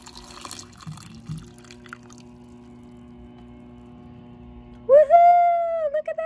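Hot milk is poured into a mug over a cocoa bomb, a steady close gurgling stream starting after a quiet lead-in and running to the end.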